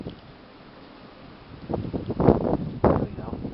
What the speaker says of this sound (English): For one big wind gust here.